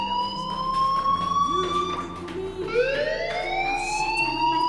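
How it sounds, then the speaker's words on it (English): In the Life is Strange video game, a fire alarm blares as a sustained, pitch-sliding siren-like wail with rising sweeps, loud and continuous over faint background noise. "do you hear that fire alarm? That means you should be outside."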